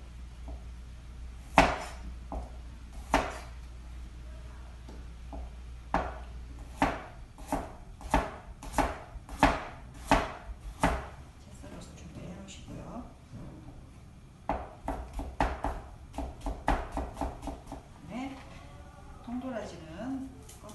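A knife chopping carrots into julienne strips on a cutting board, with sharp, distinct knocks coming in quick irregular runs, pausing, then resuming, with someone speaking between the bursts.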